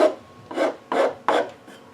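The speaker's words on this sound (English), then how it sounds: "This file obviously makes marks as well" A hand file rasps across a wooden leg being shaped, four distinct strokes in a steady rhythm, close and clear with no talk.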